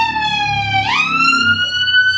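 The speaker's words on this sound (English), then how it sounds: "an ambulance are trying to find its way, but looks like traffic is a little bit tight for them" An ambulance siren wails in heavy city traffic near a football stadium in London, its tone sweeping sharply upward and holding, loud and close with traffic rumbling underneath.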